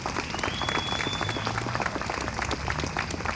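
Crowd applause at a September 11 National Day of Service and Remembrance ceremony honoring police and fire departments: steady, dense clapping from a large gathering, sustained evenly throughout.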